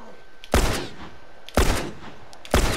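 Three heavy-round gunshots ring out in The Last of Us, each a loud, sharp blast spaced about a second apart with a ringing tail, over faint background ambience and no talk.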